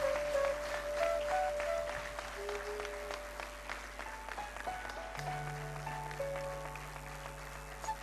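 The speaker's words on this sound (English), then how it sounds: "Give them a big round of applause" An audience at an Indian classical instrumental music concert applauds in a dense, steady patter, somewhat distant, while background music with tonal notes plays underneath.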